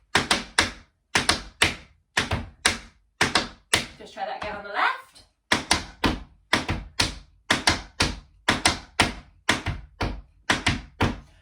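Crisp tap shoe shuffles in quick repeated bursts of two or three taps, evenly spaced, with a brief spoken instruction in the middle, during an intermediate tap dance lesson on progressive shuffles.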